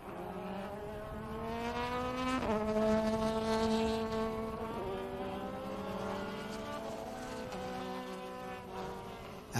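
Vintage race cars lapping Indianapolis Motor Speedway, engines rising and shifting in pitch as they pass in a loud, continuous roar with layered tonal whine.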